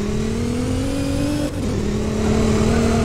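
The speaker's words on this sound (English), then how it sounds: "My car is doing a Tokyo drift though." Hyper car in a Roblox video game drifts with a steady engine drone and tire squeal, the pitch holding high then dipping briefly and settling again, loud and continuous with no talk.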